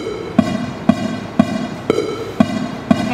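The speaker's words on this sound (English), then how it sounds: "Let me let you guys listen to a metronome." Software metronome on a computer clicking at a steady beat, six sharp evenly spaced ticks about half a second apart over a faint background hum.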